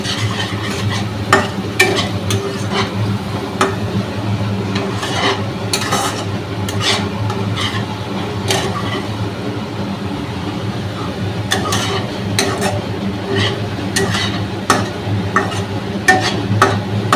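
Curry with green chillies sautéing in a pan, a steady close sizzle carrying continuous rhythmic scraping and stirring strokes of a spatula against the metal, with occasional sharper clicks.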